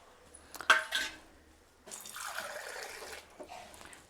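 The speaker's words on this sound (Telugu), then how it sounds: "హాఫ్ గ్లాస్ వాటర్, చిన్న గ్లాస్తో హాఫ్ గ్లాస్ వాటర్ వేసుకున్నాను" Water from a small glass poured into a pan of jaggery for murmura laddu, a short clatter followed by a sustained splashing pour and a brief trickle, close and moderately soft.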